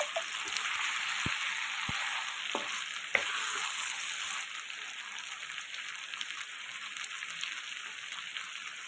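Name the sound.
boiled chickpeas being sautéed in oil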